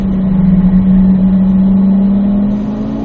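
A car engine revs up as it accelerates along a racetrack, a close, loud droning hum that holds steady before easing off near the end.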